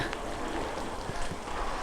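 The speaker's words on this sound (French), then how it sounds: "Je vous fais voir ça avec toujours de la pluie." Steady rain patters and hisses across surfaces nearby at an old convent dating from 1539, a broad continuous wash of sound with a few louder drips, and no clear voices.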